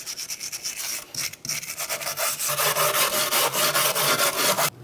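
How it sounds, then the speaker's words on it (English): Wire brush scrubbing loose rust and scale off drum brake parts during an emergency brake shoe job on a 2007-2013 Mitsubishi Outlander: steady, rhythmic rasping strokes, close and loud, with no talking. "this loose rust with a wire brush."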